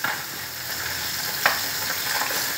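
Cauliflower sizzles steadily in hot oil with onion and coriander leaves, a close, constant crackling hiss with one brief stir-like clack midway.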